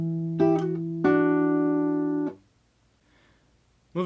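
Acoustic guitar fingerpicked through a measure of a song: two plucked attacks with sustained ringing notes, fading out to near silence before another pluck, close and clean with no talking.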